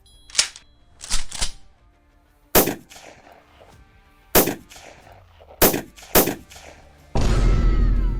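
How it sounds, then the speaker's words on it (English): AR-15 rifle firing .223 rounds at a test wall outdoors, seven or eight sharp loud reports spaced irregularly, some in quick pairs, each with a short ringing decay, ending in a burst of broadband noise. "After the AR-15, a 223 bullet, which reaches almost 2000 joules, which is about 3 or 4 times more than a pistol."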